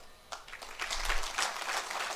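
Audience at a Uganda–UAE business summit breaking into applause for President Yoweri Kaguta Museveni, a crowd of clapping starting abruptly and holding steady for about two seconds, no voices over it.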